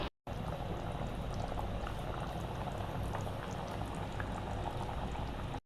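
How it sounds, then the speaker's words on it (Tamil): A pot of chicken parotta salna boils hard, giving a loud, steady bubbling and gurgling that starts after a brief silent moment and carries on alone without talk. "ஸோ இது நல்லா இப்போ கொதித்து நல்லா பச்சை வாசனை அளவுக்கு போடும்"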